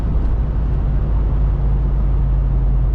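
Mercedes ML55 AMG engine with Bosch ME 2.0 tuning at three-quarter throttle, a steady loud low drone with strong bass hum heard from inside the car, constant throughout with no talk.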